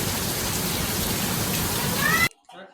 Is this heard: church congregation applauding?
no